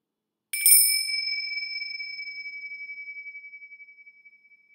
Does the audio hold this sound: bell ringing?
yes